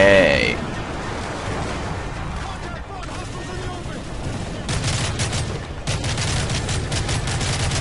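Bursts of rapid gunfire in Call of Duty: Modern Warfare 3, a sustained volley that pauses briefly and resumes, loud and close with a low rumbling background.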